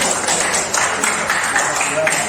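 A classroom group claps together in a brief, fairly loud burst of applause, with a few voices mixed into the clapping.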